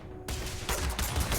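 Turrets open fire in the space game Starfield, a burst of rapid, dense shots kicking in suddenly and continuing as rattling, overlapping reports over a loud, noisy background.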